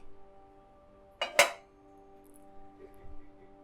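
Metal pot clinks as steamed puttu comes out of its steamer after cooking: two close, bright clanks in quick succession, followed by a faint softer knock against a quiet, humming kitchen background.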